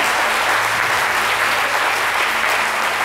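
Studio audience applauding loudly and continuously, dense clapping close to the microphones with a low hum underneath.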